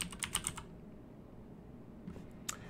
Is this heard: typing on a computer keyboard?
yes